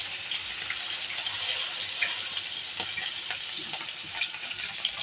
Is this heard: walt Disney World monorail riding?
no